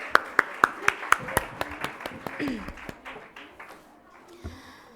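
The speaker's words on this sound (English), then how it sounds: "Give a big round of applause once again for our ma'am" Sparse, separate hand claps from an audience at a school Annual Day celebration, honouring the principal, about a dozen sharp claps that thin out and fade within a few seconds, fairly close and moderate in level.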